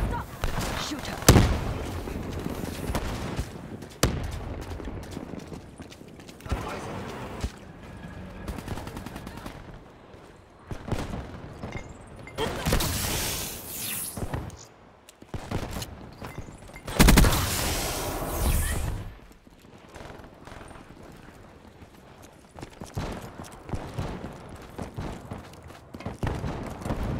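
Gunfire in the video game Call of Duty Black Ops 3 crackles in repeated bursts, some long automatic volleys and sharp single shots, loud and close, with game voices talking between the shooting.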